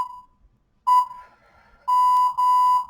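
A workout timer at the end of a total body conditioning session beeps: a short tone, then a longer one, then two sustained electronic beeps, loud and close with no talking.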